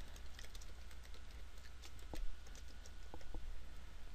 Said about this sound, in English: Take off caps lock and type the name you see there.